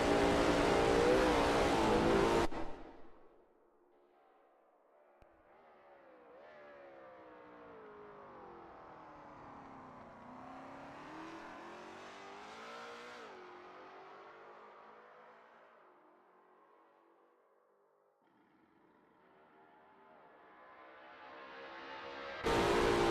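A Lola T70 MkII Spyder race car engine through Blanchimont at Spa in a racing video game, a distant whining drone that swells and fades, with loud noisy bursts at the start and end, no talk.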